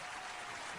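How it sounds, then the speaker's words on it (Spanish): Applause from an audience at a cultural poetry event, a steady broadband patter of clapping filling the short moment without any voices. "Ahí están los aplausos"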